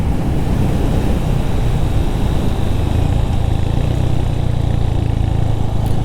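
A 2025 Royal Enfield Hunter 350 motorcycle engine runs during a test ride, a constant loud drone mixed with wind rush and no pauses.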